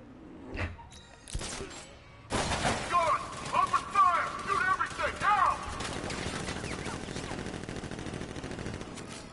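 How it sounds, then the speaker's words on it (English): Enemy gunfire in Batman: Arkham Knight: distant single shots give way to sustained automatic bursts mixed with ricochet-like whines, settling into a steady rattle of fire, with game voices heard briefly. "Guns! Open fire! Shoot everything!"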